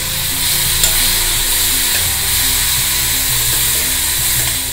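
Vegetables and tomato frying in a pan give a steady, loud sizzle, with the light scrape of stirring running underneath and no talk.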